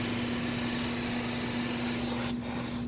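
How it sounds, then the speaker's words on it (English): Aerosol brake parts cleaner sprayed onto the wheel hub of a 2006-2015 Lexus IS250, a close, continuous hissing blast that holds steady, then briefly breaks and sputters near the end. "let's rinse it off with some brake parts cleaner"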